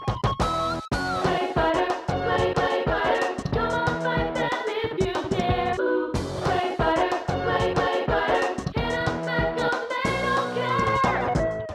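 Main theme music from the 1993 fighting video game Clay Fighter, a dense, busy synthesized tune with constant melody and percussion, loud and continuous with a brief break near the middle, no talk.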